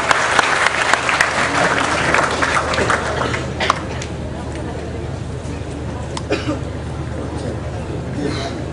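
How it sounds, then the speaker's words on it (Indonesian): An audience at a cultural dialogue event in Indonesia applauds a speaker, the clapping strong at first and then thinning into scattered claps and murmuring voices. "Tepuk tangan untuk Romo Sindu"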